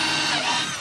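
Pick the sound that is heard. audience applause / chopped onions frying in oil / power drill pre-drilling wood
power drill pre-drilling wood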